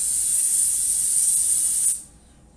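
Cooking spray coats a baking pan in one continuous close hiss lasting about two seconds, then cuts off abruptly to near silence.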